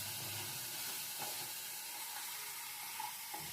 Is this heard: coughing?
no